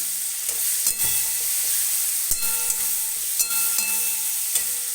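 Tomatoes frying in a pan for kande pohe sizzle softly and continuously, with several sharp clinks and stirring knocks from a utensil against the pan.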